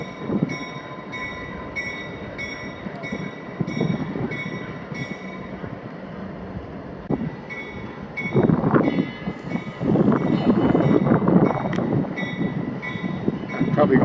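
An old F-unit diesel locomotive train at Steamtown rumbles steadily, the low rolling drone and engine hum swelling noticeably louder partway through as it moves nearer.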